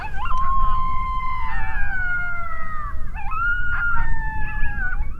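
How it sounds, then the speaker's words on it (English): A wild coyote howls from far off, about 1,200 yards away, in long wavering sliding wails, two drawn-out calls with yips between, faint but clear over low background hiss. "there's the coyote that howled back way over there"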